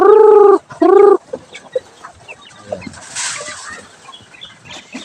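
Two loud, tonal chicken calls open the clip, followed by softer scattered clucks and pecking as the chickens eat rice bran and water spinach, with some rustling and background activity.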